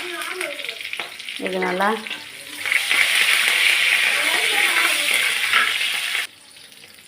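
Curry leaves hit hot oil in a pan already holding dried red chillies, ginger and asafoetida for tempering; after a few seconds of talk, a loud steady crackling sizzle takes over, then stops abruptly.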